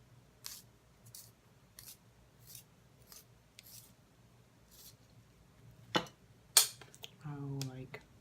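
A brow pencil is sharpened with a series of short, dry scraping strokes at an even pace, close and quiet, ending in a brief voice.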